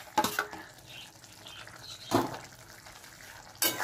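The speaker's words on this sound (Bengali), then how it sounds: "এবার আলুগুলো দিয়ে একসঙ্গে কষাবো।" Potatoes are stirred with spices in a pan, giving a few short bursts of scraping and sizzling between quieter stretches of soft frying.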